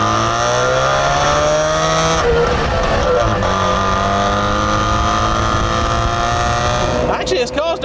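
A Trabant 601S climbs a hill in Scotland with a strained two-stroke engine drone whose pitch rises and falls through gear changes, heard from inside the car, with a brief clatter near the end.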